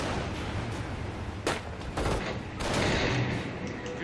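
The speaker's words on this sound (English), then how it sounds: "We have a lot of incoming fire!" A Company of Heroes battle erupts in a dense volley of rifle and machine-gun fire, sharp cracks and bursts piling up with a heavier blast in the middle, loud and close throughout.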